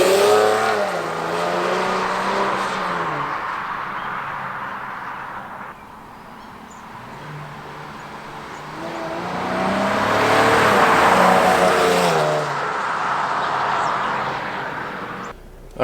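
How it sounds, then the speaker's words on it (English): A 2020 Chevrolet Camaro 1LT pulls away and later sweeps past, its exhaust note rising and falling in a loud, sustained run that swells again near the end, with no one speaking. "I'm going to do a little drive away here so you can hear the exhaust."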